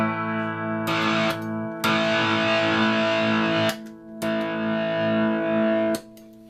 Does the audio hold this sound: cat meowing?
no